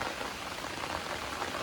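Heavy rain falling outdoors, a dense, continuous hiss of drops drumming on surfaces at steady loudness, with no voices over it.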